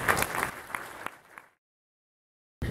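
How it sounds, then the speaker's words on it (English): Applause from a conference audience for about a second and a half, a moderate crowd clapping that thins and fades out before silence. "I think you deserve an applause"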